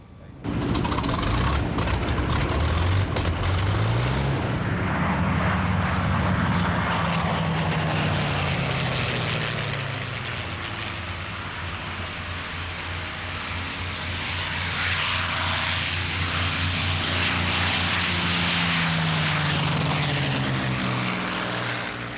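Vintage propeller aircraft fly overhead at a flying circus air display, a loud sustained engine drone with rising and falling pitch as planes pass, filling the whole span without talk.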